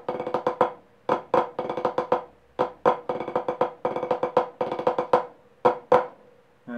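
Crisp snare drum strokes in quick repeating bursts, a driving march-like rhythm with short pauses between phrases, played close and fairly loud: the Aragonese La Jota drumming pattern from Albalate del Arzobispo.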